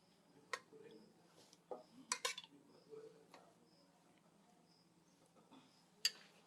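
Curd spooned into a clay pot while preparing a fermented drink: a few faint clinks and taps of a utensil against the pot, scattered and quiet, with a sharper knock near the end.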